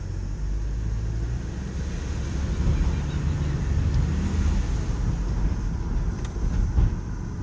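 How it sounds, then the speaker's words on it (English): A turbocharged van engine drives along a residential street at night, a steady low rumble and road roar continuing throughout with no clear change in pitch. "the turbo is working quite well"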